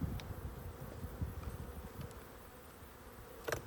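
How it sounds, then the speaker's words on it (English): Honey bees buzz during a hive inspection: a faint, continuous droning hum close by, with individual bees passing near and a brief louder buzz toward the end. "a few bees there didn't quite get the idea with the smoke, so they're coming up to be a bit curious as to what's going on"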